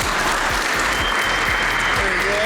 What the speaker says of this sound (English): Very big round of applause for the developer panel here.